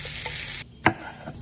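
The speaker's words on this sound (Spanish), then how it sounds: "Camarones ya pelados, sal y pimienta. Una sellada con aceite de ajonjolí." Peeled, salted and peppered shrimp searing in sesame oil on a grill, a loud steady hiss that cuts off abruptly, followed by a single sharp clatter and a quieter lingering sizzle.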